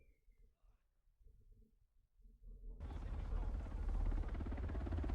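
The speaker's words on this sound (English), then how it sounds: "Is that the helicopter Rick's on?" A helicopter approaches in a dramatic scene, its rumble rising abruptly and loudly to a sustained, broadband roar with rhythmic rotor chop that dominates after a quiet stretch with faint low murmurs.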